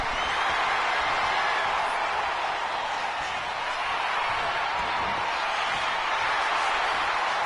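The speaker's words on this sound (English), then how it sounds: "Oh, this crowd is loving Avril Lavigne. Or maybe they're cheering" Crowd cheering in a WWE 2K25 wrestling video game match, a steady, dense wash of roaring arena noise that holds evenly throughout with no clear breaks.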